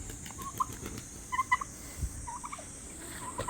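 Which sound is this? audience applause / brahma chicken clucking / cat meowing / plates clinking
brahma chicken clucking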